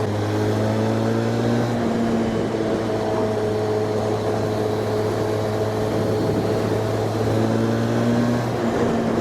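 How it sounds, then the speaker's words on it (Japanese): Harley-Davidson X350 motorcycle with a 360-degree crank parallel-twin engine, revving freely while being ridden, a steady loud engine drone with rising and falling harmonic pitch and constant wind rush. "それにしてもエンジンは本当によく回ります"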